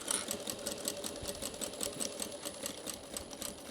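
A sewing machine stitches a shoulder crossbody bag with a fast, even, mechanical chatter. The close, continuous rhythm runs alone, without talk.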